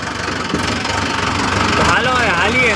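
A tractor engine idles close by, its steady low rumbling throb continuous throughout, with a voice briefly audible over it near the end.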